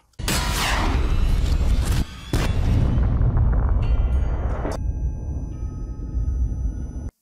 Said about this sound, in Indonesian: Apalagi setelah sebuah meriam tembakan dari Alo yang membuat mereka terkapar.